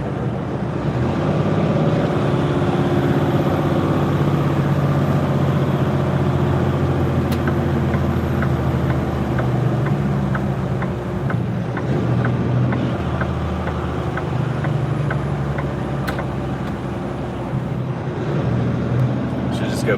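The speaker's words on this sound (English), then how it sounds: "I just like to hear the sound of the truck." A truck engine idles with a loud, continuous low rumble and a faint ticking pattern through the middle, while a voice talks over it.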